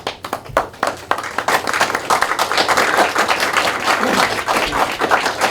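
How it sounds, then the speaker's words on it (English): Audience applause at a high school JROTC food drive: a few scattered claps that quickly swell into steady, dense clapping from many hands, sustained to the end. "I want to give you a round of applause."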